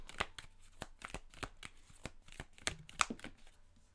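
Oracle cards shuffled and drawn by hand, a run of crisp, close riffling snaps and flicks in an irregular rhythm, with no speech over them.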